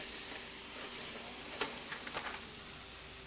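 Onions sizzle softly in a pan, a steady quiet frying hiss with a few sharp clicks and pops clustered partway through. No one is talking.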